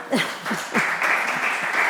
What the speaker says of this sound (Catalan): Un aplaudiment per tu